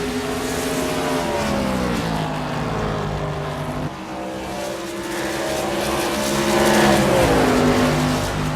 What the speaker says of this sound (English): the Omni Table number 77 car currently still out in front as he winds it around turn 3 and 4 there